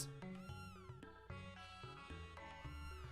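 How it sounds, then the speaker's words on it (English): Cat meowing in the Super NES game Chrono Trigger, a series of clear, tonal synthesized meows in quick succession, fairly loud with no talk. "And if you talk to Kid, hey, mister, is this your cat?"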